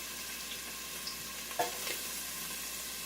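Rough-chopped onion frying in a little olive oil, a faint, steady sizzling hiss with a single brief scrape partway through.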